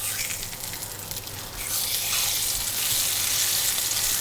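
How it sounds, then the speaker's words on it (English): Pork belly laid flesh side down in a warm pan with olive oil hisses into a steady sizzle that swells louder halfway through, close and continuous with no talking. "we're gonna put this in a nice warm pan, flesh side down, and just hear that little sizzle"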